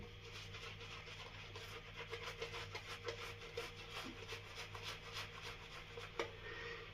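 A shaving brush works up a second coat of Stirling Iced Coffee shaving soap, a soft steady brushing and rubbing that swells in quick strokes, close and quiet, with no talk.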